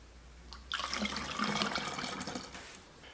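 Vinegar pours from a bottle through a funnel into a jar for salad dressing, a steady splashing liquid stream that starts abruptly and runs loud and close for about two and a half seconds.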